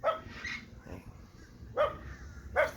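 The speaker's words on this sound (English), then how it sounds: "Neighbor's dog letting me know it sees me." A neighbor's dog barks from a backyard in short, separate bursts, four barks spaced over a few seconds, moderately near and fairly loud, with no talk.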